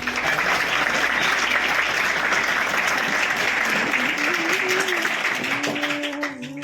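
Audience applause welcomes a teacher at a school motivation seminar: dense, loud clapping that holds steady and then thins out toward the end, with faint murmuring underneath.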